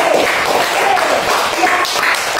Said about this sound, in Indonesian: mari kita berikan tepuk tangan untuk kelompok Melati